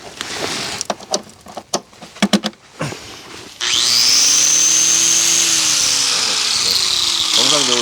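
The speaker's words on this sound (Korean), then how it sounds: "그라인더로 조금 한번 갈아 보려고요" A corded angle grinder running off a Delta 2 portable battery power station spins up loud and steady and grinds continuously, after a stretch of knocking and handling noises.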